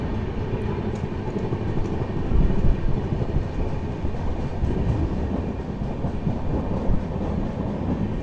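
A passenger train running between Hubli and Bengaluru rumbles steadily from inside the carriage, with rhythmic wheel clatter and faint squeals over a continuous low roar.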